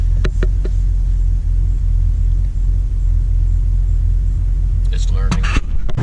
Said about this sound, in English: Now this would be the first time I let the car idle for a long period of time